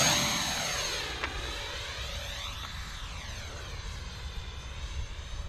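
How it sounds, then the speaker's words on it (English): A model SU-75 jet aircraft's turbine whines loudly close by, with a rising then falling pitch sweep as it spools for launch, steady roaring noise throughout with no voices. "Throttle up. Wee bit of spool, and then we'll launch it."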